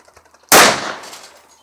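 A single sharp, loud gunshot from a Sig 556 rifle fitted with a PWS FSC556 muzzle device, a sudden crack with a short decaying tail, following brief quiet.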